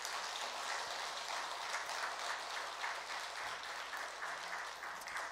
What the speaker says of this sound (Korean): 하나님께 영광의 박수 우리 한번 드리겠습니다